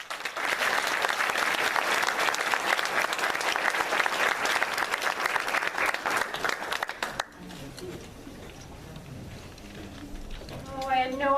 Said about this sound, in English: Please help me welcome Allison Chambliss.